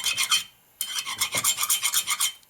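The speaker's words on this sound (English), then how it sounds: "now we got to file gasket surface slightly where the tube is sticking up" A hand file rasps across the gasket surface of a 1957 Harley-Davidson Panhead cylinder head. It makes close, gritty strokes in two bursts split by a short pause, with no voices.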